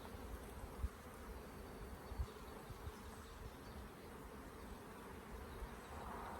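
Honey bees crowd a hive frame of brood during an inspection, giving a dense, steady buzz that holds close and even throughout, with a few brief louder swells and no voices.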